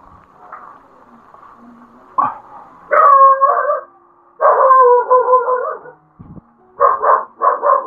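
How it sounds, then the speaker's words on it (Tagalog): A dog barks and yowls in several drawn-out bursts, loud and close, with a faint whimper between bouts and a brief thump near the end. "May aso."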